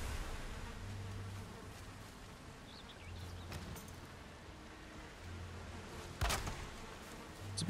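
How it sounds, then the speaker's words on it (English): Bees buzzing around a damaged hive in the Valheim video game, a steady, faint insect drone with low hum pulses under rustling ambience, with no talking. "And why did my bees sting me?"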